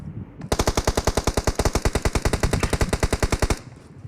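Automatic gunfire in a shooting video game, a long rapid burst of roughly thirty evenly spaced loud shots lasting about three seconds, then stopping.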